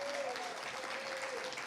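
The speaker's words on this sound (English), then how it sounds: "Shall we give them a little bit more cheering on?" A church congregation claps steadily in a dense, even wash of applause, with a voice calling out faintly over the clapping.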